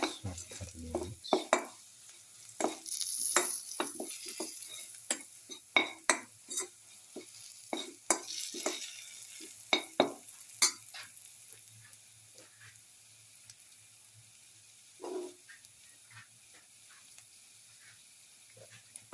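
Chicken and rice with mixed spices, salt and garlic are stirred in a pan, repeated scraping and clinking strokes of a utensil over a faint sizzle, busy at first and thinning to sparse taps later.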